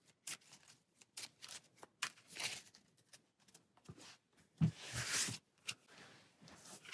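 Arkham Horror playing cards are shuffled by hand in quick, close riffling bursts, with soft patters and pauses between shuffles, no talking.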